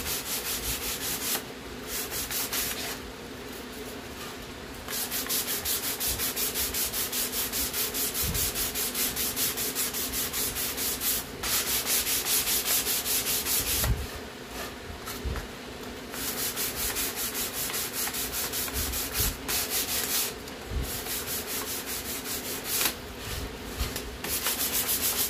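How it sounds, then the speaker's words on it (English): Continuous rasping sanding during a homemade crystal radio build, close and steady with rhythmic back-and-forth strokes and brief pauses. "we got the sanding done"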